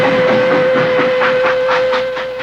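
Steam locomotive pulling a special mail train in 1860, its whistle sustained and loud throughout while the carriages rumble and clatter past with a rhythmic clickety-clack that fades slightly at the end.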